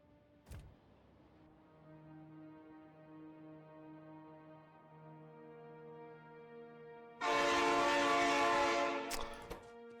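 A Factorio train hums along with a faint steady drone, then its horn blasts loudly for about two seconds near the end, with a sharp click early on.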